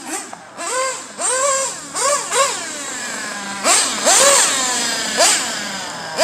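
A Pico engine runs in the cold and is revved repeatedly, giving a series of loud, close rising-and-falling blips in quick succession between brief idle dips.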